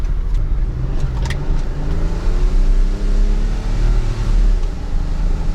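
A BMW car engine idles roughly and unevenly, a low steady rumble with wavering pitch and slight surges, close and loud, with no talking over it.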